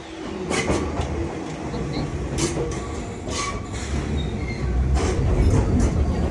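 An Enoden train runs past in Kamakura, making a loud, close rolling rumble with rhythmic wheel clacks that swells toward the end.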